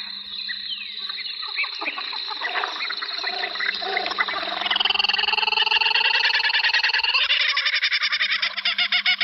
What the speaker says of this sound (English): Kookaburra is first up for breakfast